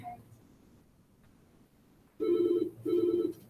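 A telephone rings twice in a classroom, two loud, buzzy electronic bursts separated by a short gap, following a quiet stretch of faint room noise.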